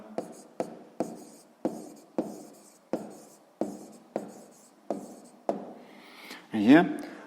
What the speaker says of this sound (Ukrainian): зараз записуємо відповідь, пишемо відповідь